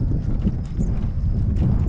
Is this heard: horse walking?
yes